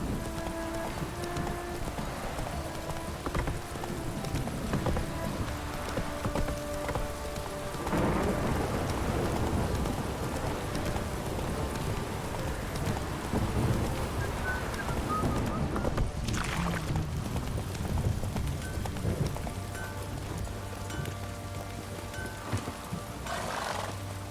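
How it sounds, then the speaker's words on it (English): Steady downpour and rolling thunder from The Witcher video game, a dense wash of rain with low rumbles and a hoof-like clip-clop rhythm underneath, continuous and fairly loud throughout. "This downpour's a bastard"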